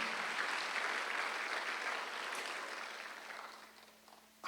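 Steady, dense applause from a large church congregation during a Sunday service, continuous and fairly even, tapering slightly toward the end.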